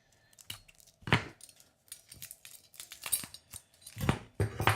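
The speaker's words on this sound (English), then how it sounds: "my little unboxing scissors." Small scissors snipping and tearing into a taped cardboard box holding a Panov jaw harp, a close, irregular series of sharp cuts and crinkling rips of packaging over a few seconds.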